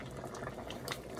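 A pot of creamy chicken noodle soup bubbles at a steady boil, a continuous close burbling and popping of liquid with no voices.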